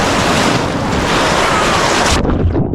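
Sea waves washing onto Vizag beach, a loud, broad rushing surf that swells for a couple of seconds, then abruptly cuts away, with wind buffeting the microphone.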